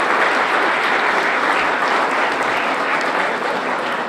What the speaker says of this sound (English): So please give Assemblyman Benji Wembley a round of applause.